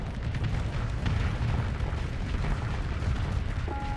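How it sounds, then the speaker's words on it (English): Volley of missiles launching from a ship in Starsector with the Nexerelin mod, a continuous booming, rumbling barrage with scattered bursts and pops layered over a dense low roar. "Fire all the missiles."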